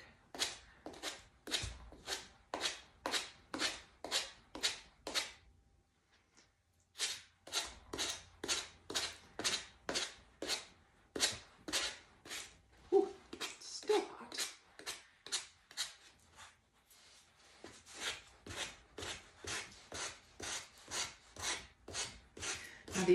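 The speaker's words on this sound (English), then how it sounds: "sanding block." A sanding block rubs back and forth over scrapbook paper glued with Mod Podge onto wood, making long runs of steady rasping strokes in a regular rhythm, close and fairly loud, with short pauses between the sets.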